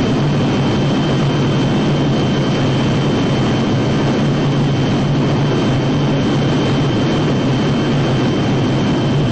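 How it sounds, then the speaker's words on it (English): Heavy military jet aircraft engines roar in a loud, constant, dense drone, close and unbroken throughout, with no talk. "Getting these lumbering jets up in the air in extremely hot conditions is never easy."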